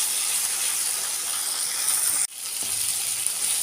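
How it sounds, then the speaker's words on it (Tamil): Onions sautéing in oil in a pan, a loud steady hiss and sizzle held close throughout, briefly cut off once before resuming. "இப்போ நல்லா எல்லா வெங்காயத்தையும் நல்லா மிக்ஸ் பண்ணி விட்டு நல்லா வதக்கணும்"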